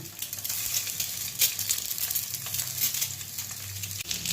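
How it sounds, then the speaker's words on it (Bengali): Eggs sizzling and crackling in hot mustard oil in a frying pan, turned to brown both sides, a steady bright frying hiss with small pops throughout. "আমি এপিট ওপিট করে লাল করে ভেজে নিচ্ছি"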